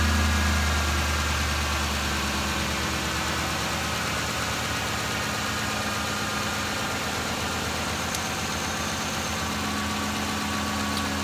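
A Ford 5.4L truck engine idles steadily with a low, even rumble and light vibration, suspected of a jumped timing chain and rough running, continuous throughout with no talking.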